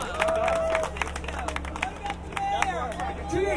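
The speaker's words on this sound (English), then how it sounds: "give it up for yourselves, a round of applause" Scattered clapping and cheering from a crowd at the grand opening of a Sonic restaurant on White Street in Danbury, Connecticut, mixed with chatter and voices, with sharp individual claps standing out over busy outdoor noise.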